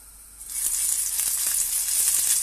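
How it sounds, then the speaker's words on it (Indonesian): Meatballs sizzling and frying in a small amount of oil, a steady close hiss that swells after the first half second and holds with faint crackles, no talk. "ini akan kita goreng cepet aja. Dengan minyak sedikit."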